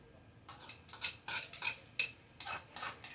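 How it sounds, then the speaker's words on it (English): A whisk clatters briskly against the inside of a bowl while ingredients for holiday treats are mixed, a run of sharp metallic scrapes and taps in quick uneven bursts, close and fairly loud with no talking. "Gonna whisk these together. Put them straight into my bowl."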